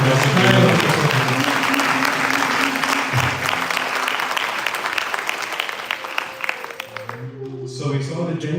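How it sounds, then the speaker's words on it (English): An audience at a Kuchipudi dance recital claps loudly and steadily for the musicians for several seconds before the applause thins out, while a voice speaks over it. "So please, another round of applause for our fantastic."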